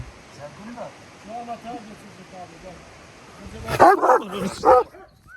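A dog barks and yips in a few loud, close bursts near the end, after quieter stretches where people talk outdoors.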